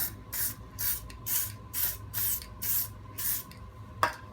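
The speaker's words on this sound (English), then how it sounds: "I'm just going to put some copper grease around these trumpets" Copper grease is sprayed onto the trumpets of a Classic Mini front subframe in about seven short, evenly spaced hissing bursts, close and fairly loud, ending with a single sharp click.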